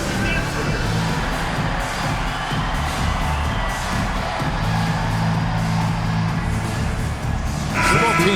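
A dense, steady crowd roar in an NBA 2K26 basketball game fills the whole stretch, like arena fans cheering and clapping, with a brighter swell near the end.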